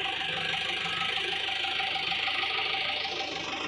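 A tractor engine runs steadily at an even, rattling idle-like drone in the evening on a sugarcane farm, with no one talking.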